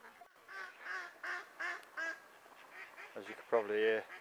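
Ducks quack in a rhythmic series of calls outdoors at a winter carp-fishing lake at dusk, moderately close, with a louder burst of honking quacks near the end.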